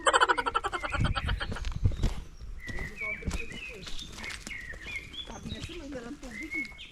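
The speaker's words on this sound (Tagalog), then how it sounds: "Narinig nyo yun yung ano? Yung huni ng ibon." Birds chirp and whistle in short, bright phrases while people talk nearby; rapid clopping pulses open the scene.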